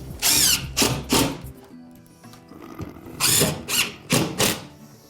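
A power drill driving a screw into drywall, short rising whirs in quick bursts with gaps between them, fairly close and loud with light mechanical clicking.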